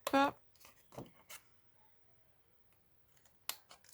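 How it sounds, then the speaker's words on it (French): Scissors snip through paper while cutting out hearts, a loud crisp cut at the start followed by a few fainter snips and a last short cluster near the end, with quiet gaps in between. "Bah évidemment qu'il faut découper les cœurs."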